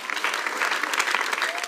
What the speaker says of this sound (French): Applaudissez le Seigneur pour la miséricorde.